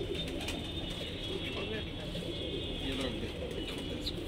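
Punjabi pigeons in a loft coo softly in the background, low murmuring calls beneath a steady hum and room noise, with people talking close by.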